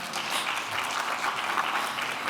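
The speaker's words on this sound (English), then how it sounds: "Go ahead, clap." Steady applause from an audience at a museum curator's talk, a dense patter of many hands clapping at moderate volume for a couple of seconds with no voices over it.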